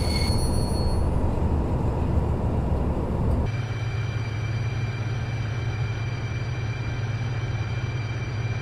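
A train hauled by a BR218 diesel locomotive pulls in, a loud continuous rumble with whining tones that shifts partway through, heard nearby without talk.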